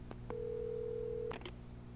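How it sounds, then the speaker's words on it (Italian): A telephone in the Alan Wake video game: a short click, then a steady dial tone held for about a second, followed by quick dialing beeps, set against a low background hum. "Telefono, usa il telefono"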